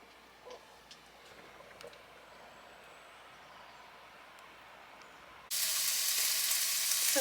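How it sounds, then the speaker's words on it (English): Onions and red peppers fry in a pan in a van kitchen, a faint crackle with light ticks and stirring at first, then a sudden loud, steady hiss of sizzling near the end. "I've just added the red peppers so that we can try and caramelise them a bit before the mushrooms go in"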